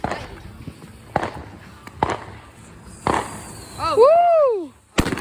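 Fourth of July fireworks going off nearby, several sharp cracking bursts spaced about a second apart, then a rising whistle that sweeps up and falls, with excited shouts from people close by.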